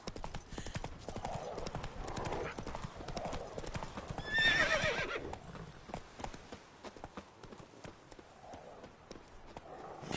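Roach, a horse in The Witcher 3 video game, gallops with rapid clip-clop hoofbeats throughout, and a loud whinny rises midway over the running hooves.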